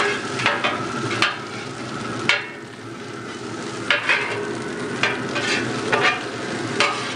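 Garlic fries on a BBQ griddle insert while Thai food is cooked, a constant close sizzle punctuated by repeated metal spatula scrapes in an irregular stirring rhythm, with no one speaking.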